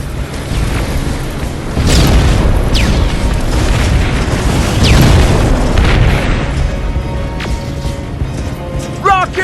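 Rockets explode in Terminator Resistance, a loud series of heavy booms and crashing blasts with lingering rumble, plus a few whooshing streaks between hits.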